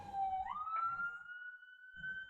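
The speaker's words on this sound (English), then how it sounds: "We always have those ambulances going back and forth because in New York City's filled with crazy people" An ambulance siren wails along a busy New York City street on Broadway, a steady rising tone that carries loudly through the whole moment over faint background traffic noise.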